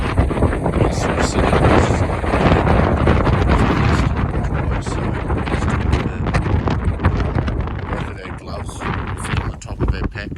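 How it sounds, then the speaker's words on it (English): Strong wind buffets the microphone on an exposed hillside, a loud, continuous roaring rumble with gusty surges throughout and faint sharper knocks near the end. "as you can tell, the wind picked up a shitload"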